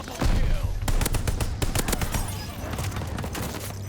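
Rapid automatic fire from a BAR rifle in Call of Duty Vanguard multiplayer, loud close bursts of sharp cracking shots in quick succession, with brief gaps between volleys.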